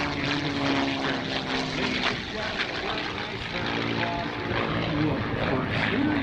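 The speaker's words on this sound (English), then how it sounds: "Scooter is going to come by now and give us a few photo passes of this P-51" P-51D Mustang Quicksilver propeller plane passing at the 2024 ROC Airshow in Rochester, New York, a loud throaty engine roar swelling and holding close by, with an announcer talking over it.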